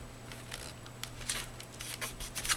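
Scissors snipping washi tape in a quiet room, several short crisp cuts in an uneven rhythm, close and soft.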